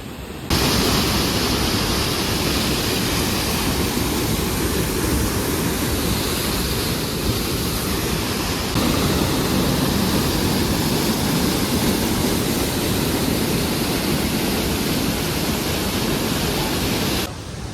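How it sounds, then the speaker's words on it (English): A waterfall in Franconia Notch State Park roars loudly and continuously, a dense, unbroken rush of falling water filling the whole stretch. "So we just saw this beautiful waterfall. You can still hear it."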